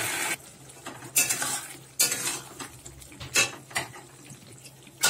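A spoon stirs chili egg masala frying in oil in a pan, with several sharp scraping strokes against the metal over a low steady sizzle, close by and without any talk.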